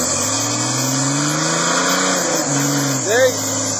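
A Jeep engine revs hard as its tires spin in two-wheel drive, a loud steady roar that rises in pitch, with a short burst near the end and shouting voices nearby.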